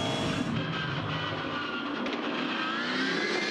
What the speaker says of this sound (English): This is medical car, in fact.